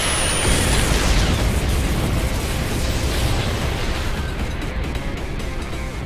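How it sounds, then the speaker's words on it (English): A cannon blast explosion in the video game No More Heroes 3 roars as a dense, loud burst that rumbles on continuously for about six seconds, with no talking over it. "A cannon!"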